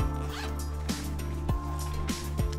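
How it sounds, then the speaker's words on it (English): A zipper on a small pouch of a roll-up tool bag is pulled open in several short, close, rasping strokes with a steady rhythm. "top zipper"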